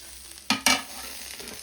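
A spoon scrapes twice through ripe chopped tomatoes and masala frying in a pan for Kerala-style duck mappas, two sharp stirring strokes over a soft, steady sizzle, with no talking.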